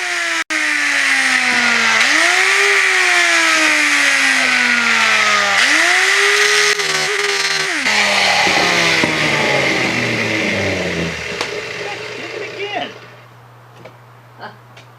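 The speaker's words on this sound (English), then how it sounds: "the angle grinder is my tool of choice for getting them out" An angle grinder cuts rivets out of the steel frame of a 1930s sled, its loud motor whine rising and falling under load for about twelve seconds before spinning down to quiet with a few faint clicks.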